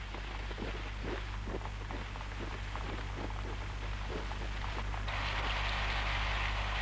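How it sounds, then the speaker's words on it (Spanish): Rain falls steadily in a forest in an animated scene, a dense continuous hiss with a low background hum, and the patter gets slightly brighter and heavier toward the end. "Ya ha empezado a llover."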